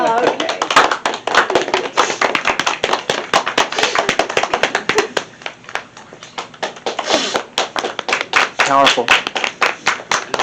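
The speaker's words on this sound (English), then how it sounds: "We're supposed to clap when we get off here." An audience claps after a stage play about the trial of Jane Elkins, a burst of many hands ringing out near and loud, dipping briefly midway before swelling again, with voices talking over it.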